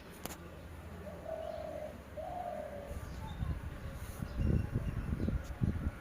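A Greater Coucal gives two deep, hollow hoots from within a tree, followed by close rustling and handling noises as someone moves nearer.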